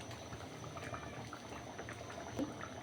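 Mung dal cooking with a fish head simmers in a pot, a steady close bubbling and soft liquid churn from stirring, faint and continuous, with no talk.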